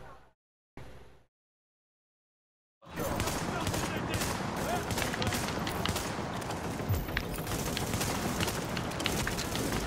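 Gunfire in the video game The Division, a dense, continuous rattle of rapid shots that starts abruptly after a few brief bursts and near silence, then runs steadily to the end.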